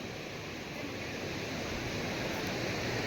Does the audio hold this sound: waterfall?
yes